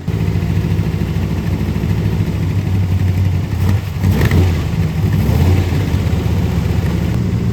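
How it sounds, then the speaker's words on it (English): A 1966 Corvette engine runs on old gasoline, a loud, close, lumpy rumble with uneven revs that swell and dip as it struggles to settle into an idle. "That's a good sounding car right there."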